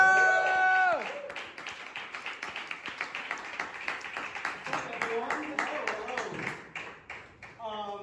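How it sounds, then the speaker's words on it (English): An audience at a stand-up comedy show claps and cheers, with applause building after a brief musical sting, then fading out as another short musical flourish comes in. "please give a nice warm round, welcoming applause for this next guy, Jake Bennett!"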